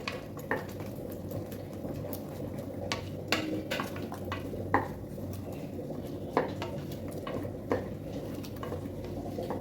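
Soya chunks, soaked in hot water with turmeric and washed, are stirred into coriander-mint pulao in a pot, giving repeated scraping and clinking of a spoon against the metal pot with soft squishy mixing between the strokes.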